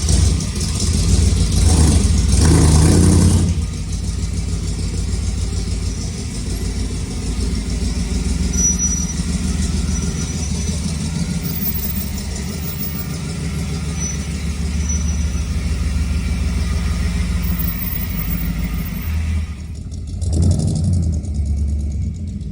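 A 1962 Ford F-100 pickup with a fuel-injected engine, loud and close, revving at the start, then idling with an uneven loping rhythm for a long stretch before one more brief rev near the end, with no talking.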